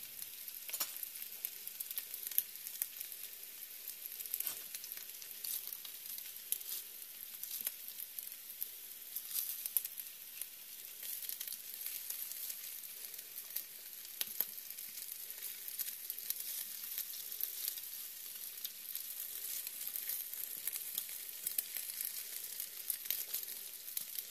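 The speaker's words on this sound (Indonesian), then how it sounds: "Ini tidak perlu digoreng sampai matang. Cukup hanya dengan permukaannya menjadi coklat" Swedish-style meatballs frying in oil in a pan until the surfaces brown, giving a continuous soft crackling sizzle with scattered pops, steady and fairly quiet throughout, no voices.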